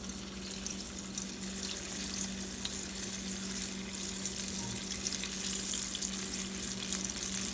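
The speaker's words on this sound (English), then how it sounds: "We're gonna get these frying." Steady sizzling and crackling of food frying in hot oil, close and continuous, with a faint low hum underneath and no voices.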